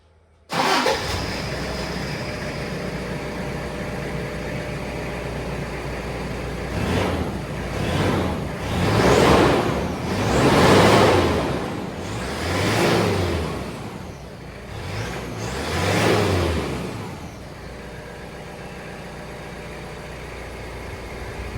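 A Toyota Hilux pickup engine cranks and catches, then idles steadily with several throaty revs rising and falling before settling back to a low rumble, on its standard exhaust.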